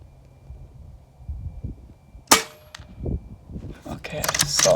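A JTS Airacuda air rifle fires slugs while the magazine is emptied, giving sharp cracks and metallic clangs of hits on the target. They are spaced irregularly over a quiet background.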